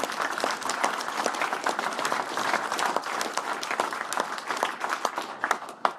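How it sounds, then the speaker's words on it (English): Audience applause at a UKIP political rally in Bolton: steady, dense clapping from a crowd, fairly close and continuous for several seconds, with a few louder individual claps near the end. "I'd like to give him a round of applause."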